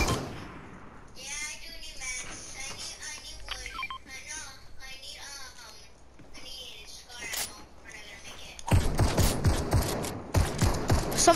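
Bursts of rapid gunfire from a shooting video game erupt loudly near the end, following quieter stretches where people talk over faint game sounds.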